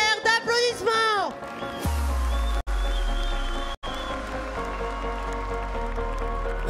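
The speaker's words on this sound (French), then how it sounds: "Un tonnerre d'applaudissements." Audience applause at the Concours Général Agricole 2025 Bazadaise cattle competition, a dense, sustained crowd clatter that starts after a brief voice and continues to the end with two short breaks.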